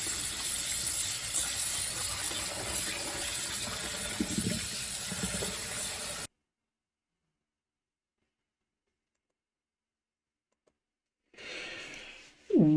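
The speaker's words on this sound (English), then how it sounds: "So I'm going to just finish rinsing out the soap from these skeins of yarn." Water rushes steadily as soap is rinsed out of skeins of hand-dyed yarn, a broad close hiss that cuts off into silence before a brief splash returns.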